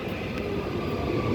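A not-in-service electric train passes a station platform with a continuous close rumbling roar.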